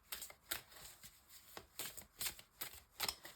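Tarot cards are shuffled by hand, a quick run of soft papery riffles and flicks, close and quiet, with no talking.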